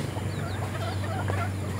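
Pet hens clucking softly against a steady low background hum, a short, faint stretch of farmyard chatter.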